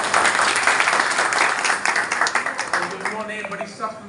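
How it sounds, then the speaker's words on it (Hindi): Audience applause at an official event with Pakistan's prime minister mentioned, a dense burst of clapping that thins into scattered claps as voices begin talking over it. "शहबाज शरीफ के लिए तालियां बजा दें।"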